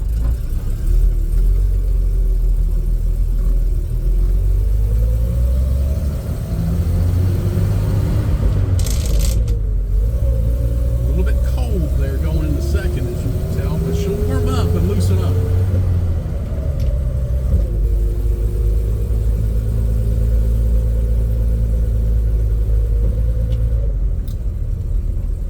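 A 1970s Toyota FJ Land Cruiser engine rumbles loudly and steadily while driving, with pitch rising and falling through gear shifts and a brief clunk of the shifter partway through.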